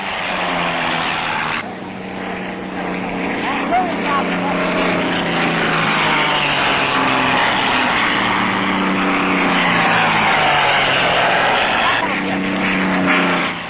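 Racing airplanes bank around pylons at close to 200 miles an hour in a triangular-course air race. Propeller engines give a loud, continuous droning roar that swells and shifts in pitch.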